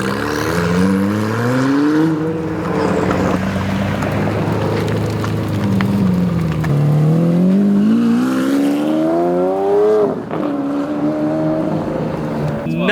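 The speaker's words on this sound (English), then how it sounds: "Nothing beats a V12." A McLaren V12 engine revs hard, its pitch climbing and falling through several sweeping pulls at a car show, loud and close, with excited voices shouting over it.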